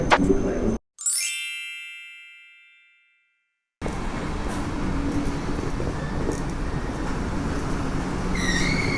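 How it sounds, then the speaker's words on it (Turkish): A bright ringing chime sounds at a train station and fades out, a short silence follows, then a steady broad rumble of a train pulling in fills the rest, loud and close. "Trenimiz geldi."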